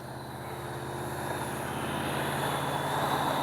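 An Arrows 64mm EDF MiG-29 RC jet on its maiden flight: a steady, airy ducted-fan whine with a buzzing drone underneath, holding close and loud and slowly swelling as it passes.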